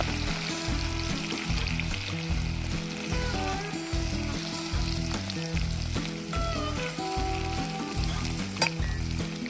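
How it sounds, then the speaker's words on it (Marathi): Garlic fries with cumin in oil, producing a constant close crackling sizzle under regular rhythmic stirring strokes against the pan, with an occasional sharp clink and no voices. "जिरे छान लाल तळल्यानंतर आपल्याला लसूण घालायचं आहे"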